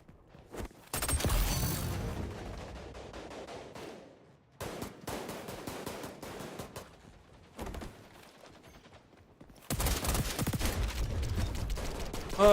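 Shotgun fire in an XDefiant domination match: loud blasts in rapid clusters, with dense bursts of gunfire separated by short quiet gaps and an intense volley at the end, without talk.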